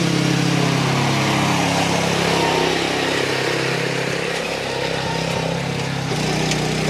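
Turbo Italian 10 2024 model farm machine with its engine running steadily close by: a loud, continuous mechanical drone with a constant low hum that barely changes throughout.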